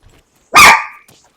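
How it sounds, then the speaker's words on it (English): A single loud, close dog bark in the Arma 3 Epoch mod video game, one sharp burst followed by a faint short yip, otherwise quiet. "Stupid dog."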